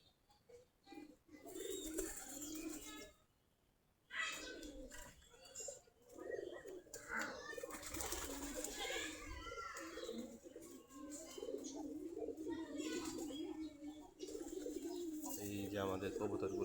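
Native desi Giribaz pigeons coo in a loft, repeated soft throaty rolling calls from several birds close by, with occasional chirps and a person talking intermittently among them.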